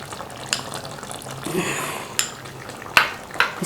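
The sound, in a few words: stirring cream into chicken in a pot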